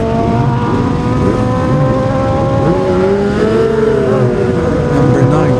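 Kawasaki superbike at the Classic TT road race screams past loud and near, its engine note rising and falling in pitch for several seconds with other bikes droning underneath.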